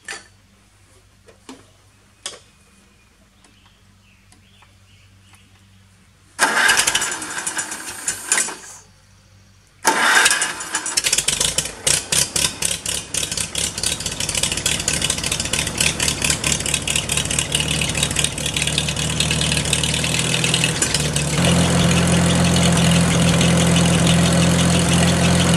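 A Massey Harris 30 tractor engine cranks in short bursts after a few clicks, catches, and settles into a loud, steady, rhythmic idle that grows louder and rougher toward the end.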